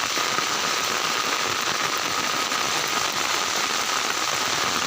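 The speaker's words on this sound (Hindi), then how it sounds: "अभी तो कुछ भी नहीं हुआ बारिश, और कितना बारिश आएगा मालूम नहीं।" Heavy monsoon rain pouring down steadily as floodwater rises toward a house, a dense unbroken roar of drops on surfaces filling the whole stretch without any voices.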